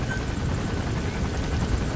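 Helicopter in the video game Metal Gear Solid V, a steady dense rotor and engine roar that holds loud and unbroken throughout, with no voices over it.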